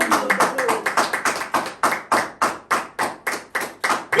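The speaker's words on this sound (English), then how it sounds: "clap for the glory of the Lord." A church congregation claps together in a steady rhythm, about fifteen sharp claps close and loud, one after another, with a brief voice at the start.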